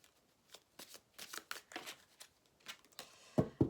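Light tarot cards are shuffled in quick, close riffling bursts with short pauses between them, ending in a louder final riffle.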